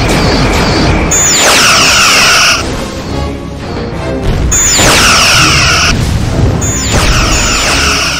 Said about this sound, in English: Loading quantum torpedo, sir.